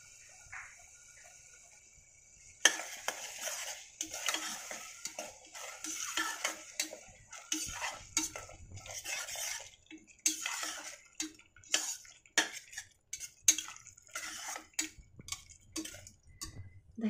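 Yogurt is sautéed with masala paste in a pan, heard as irregular, close clicks and scrapes of a spoon against the metal. A low sizzle runs beneath the stirring after a quiet opening.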